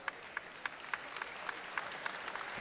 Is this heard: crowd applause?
yes